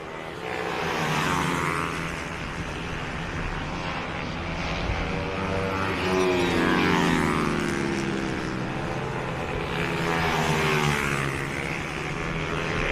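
Minibike 140 race bikes pass on the Three Sisters circuit, their small engines droning loudly and rising and falling in pitch as they sweep by, with several overlapping passes.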